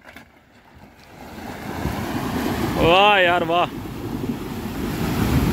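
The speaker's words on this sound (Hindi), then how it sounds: "ये देखिए कितनी कितनी बड़ी लहरें बन रही है यार आज तो" Water surges and splashes in a rushing wash as an SUV drives off-road through deep water, steady and loud with wind buffeting, while a man exclaims briefly over the noise.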